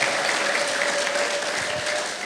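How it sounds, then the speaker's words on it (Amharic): A church congregation claps together in dense, continuous applause that stays loud and even throughout. "እስቲ ለእግዚአብሔር ክብር አጨብጭቡ"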